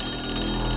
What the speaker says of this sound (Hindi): उसके टेलीफोन पर फिर से घंटी बजती है।